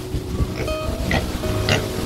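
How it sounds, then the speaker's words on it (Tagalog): A native pig named Bonak oinks and grunts in short bursts at close range, with steady wind rush and outdoor background noise beneath it. "Si Bonak guys ay isang native na baboy."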